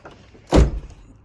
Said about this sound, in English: So let me just shut the doors.